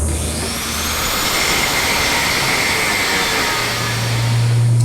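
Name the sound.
4.5-inch angle grinder with flap wheel cleaning metal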